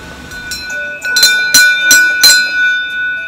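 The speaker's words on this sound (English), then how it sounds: "Ringing the bell to ward off the bears on the Nakasendo." A small bear bell rings loudly and close by on the Nakasendo trail between Tsumago and Magome, Japan, four bright metallic strikes in a steady rhythm, each tone lingering and overlapping the next.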